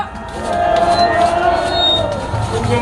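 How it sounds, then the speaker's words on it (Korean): Crowd at an outdoor political rally of the Republican Party in South Korea, applauding and cheering steadily and loudly as the party leader is introduced, a dense continuous wash of clapping and voices. "크게 박수 보내주시기 바랍니다"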